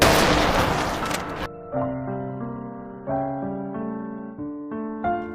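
A single loud, sharp gunshot blast from Junho shooting the Front Man at a cliff edge in Squid Game, its noisy burst lasting over a second before cutting to sustained tonal music.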